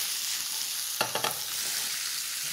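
Food stirred and turned in a hot pan, seasoned with salt and pepper, giving a steady close sizzle with a few brief scraping clatters of turning partway through.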